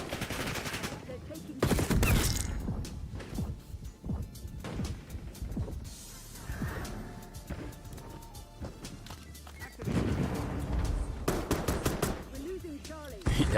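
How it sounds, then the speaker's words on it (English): Gunfire in the video game Call of Duty: Warzone, loud bursts and rapid shots cracking throughout, with players talking over the fighting. "That gun sounds real."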